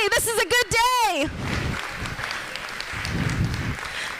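At a charity fundraiser gala, a voice calls out with a rising exclamation, then an audience claps steadily, a moderate wash of hands that carries on at an even level.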